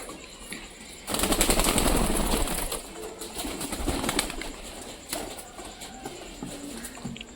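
Pigeons in a rooftop loft of high-flying Giribaz birds beat their wings in a loud, dense burst of flapping that eases into scattered fluttering and rustling, with no voices.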